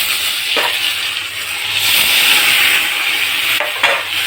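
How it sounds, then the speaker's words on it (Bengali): A spatula stirs turmeric through hot oil in a frying pan, a steady sizzle with scraping sweeps and a few metallic clicks against the pan, close and fairly loud. "আমি অল্প একটু হলুদ দিয়ে দিলাম, নাড়াচাড়া করব"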